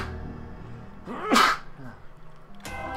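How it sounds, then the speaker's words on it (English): A single sharp human sneeze cuts through a quiet room, brief and close, with a faint intake before it and a short noise burst afterward. "I'm also going to sneeze"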